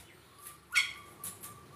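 A Bali starling in an aviary gives a few short, bright chirps against a quiet background. A louder call comes first, followed by two softer ones in quick succession.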